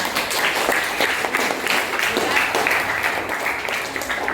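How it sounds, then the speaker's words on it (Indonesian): Students in an Indonesian-language school class applaud together, a loud, dense and continuous patter of many hands clapping close by throughout. "Tepuk tangan untuk kalian semuanya."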